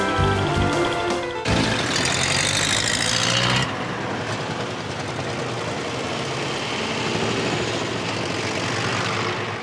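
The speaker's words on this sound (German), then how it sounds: "Hürlimann-Traktoren." Vintage Hürlimann tractor engines running on a military airfield at a vintage tractor gathering, a loud steady droning rumble that shifts abruptly early on and then holds continuous.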